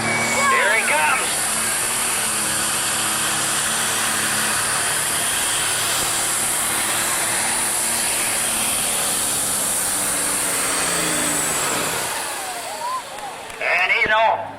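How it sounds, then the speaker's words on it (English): A modified 30-year-old 1466 tractor fitted with three turbochargers roars under full load at a tractor pull, a loud, sustained, gritty engine howl that holds steady for several seconds, drops off, then surges again briefly at the end. "this girl's 30 years old, the tractor is. A 1466. 3 Chargers, James Damon."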